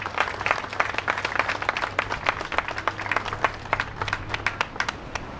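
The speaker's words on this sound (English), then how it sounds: "How about a round of applause for the Italian American Association for providing such a beautiful wreath?" A crowd claps for the Italian American Association at an outdoor Columbus statue re-dedication ceremony in Pittston City, with scattered, uneven claps from a modest gathering continuing steadily over a low background hum.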